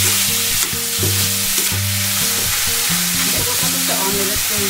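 Ground pork sautéing in a pan, with a steady close sizzle and repeated scraping and stirring strokes under a constant low hum, no talking.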